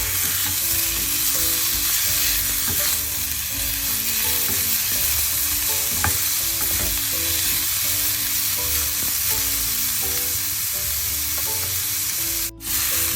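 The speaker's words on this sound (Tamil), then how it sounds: "நான் இந்த வெட்டின தக்காளி எண்ணெய் சேர்க்க போகிறேன்" Chopped tomato frying in hot oil for a tinned-fish curry gives a steady, dense sizzle with soft stirring scrapes throughout and one sharp click near the end, with no voices.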